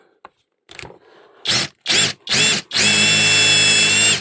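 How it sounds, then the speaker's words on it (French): A Parkside drill bores a small hole in wood, starting with a few quick loud bursts and then running in one steady whine to the end. "Voilà, je vais faire un tout petit trou."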